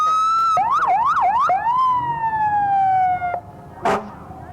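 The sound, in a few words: fire truck siren in a parade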